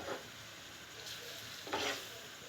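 Jackfruit fritters fry in a pan with a quiet, steady sizzle, broken by two brief louder scrapes as pieces are turned.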